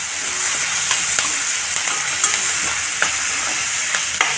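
Onion frying in a pan with turmeric, being stirred for a Kadapa karam dosa masala; a steady loud sizzle runs throughout, broken by several sharp scraping stirs and utensil taps at irregular intervals, with no talking.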